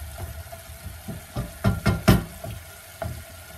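Chopped parsley with its small stems frying in an Italian soffritto for pasta e fagioli with mussels, a soft sizzle broken by several sharp crackling pops and stirring scrapes, close and without talk.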